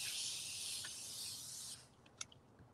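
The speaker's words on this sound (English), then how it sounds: "And I'm going to spray base the back of this." OD-505 temporary spray baste hisses steadily onto the back of minky fabric for a soft cloth book, a loud continuous aerosol burst that cuts off, leaving quiet room tone with a faint tap.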